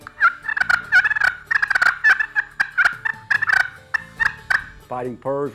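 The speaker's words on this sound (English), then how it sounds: "Cutting," Glass slate turkey call roughened with a diamond pad, played in an excited cutting sequence of fast, sharp, irregular clucks, loud and close, ending in a short lower yelp-like note.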